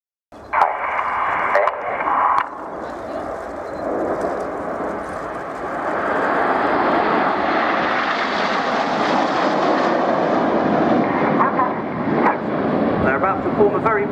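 Red Arrows jets flying in formation at an air show, a loud broad engine roar that swells and holds steady, with a commentator talking over it.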